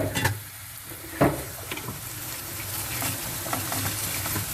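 Food sautéing in a pan with onion and eggs, sizzling and frying steadily at close range, with a few sharp stirring knocks from a utensil and no talking.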